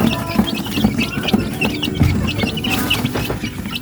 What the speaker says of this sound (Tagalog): So ito yung mga manok natin na native.